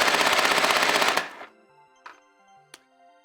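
A Nerf M134 Minigun blaster rips off a loud, dense full-auto burst for about a second, then spins down, followed by a couple of sharp clicks and small rattles as shells hit a table.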